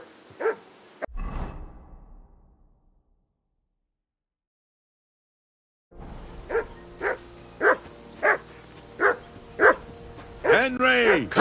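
A dog barks repeatedly in Kingdom Come: Deliverance 2, a steady run of sharp, evenly spaced barks that ends in a whimpering yelp. It follows a brief burst of speech and a silent gap.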